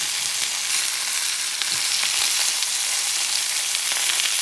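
Kangaroo meat fries in a pan with a steady, dense sizzle and crackle, close and loud, with no voices.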